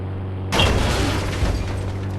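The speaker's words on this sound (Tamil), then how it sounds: "நான் டிக்கி பம்ப் வச்சு காரை வெடிக்க போட்டு போகிறேன்" A car blows up from a sticky bomb in the Indian Bike Driving video game: a sudden loud blast hits about half a second in, then a dense roaring rumble carries on to the end, with no talking.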